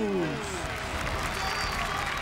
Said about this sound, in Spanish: El aplauso para el hombre serpiente, Ophidius